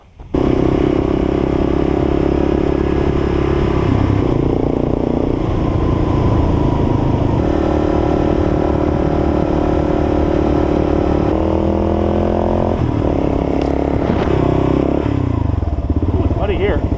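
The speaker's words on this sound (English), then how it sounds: "I'll jump back on the bike and see where we end up" Motorcycle ridden off-road on muddy tracks near a national park entrance, its engine droning loud and steady throughout with shifting pitch as it changes gear and revs, plus occasional clatter from the rough ground.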